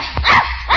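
A dog named Jeep barks in an old-time radio comedy, two or three close, loud yaps with a short whimpering edge, standing alone with no talk over them.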